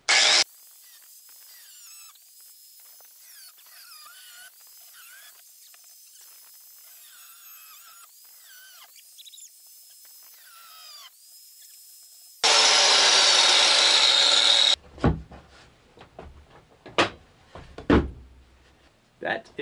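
A power tool normally used on steel cuts wood for curved RV cabinets in a box truck camper. It gives a loud, harsh burst of a few seconds after a quieter stretch, then scattered knocks and clatter.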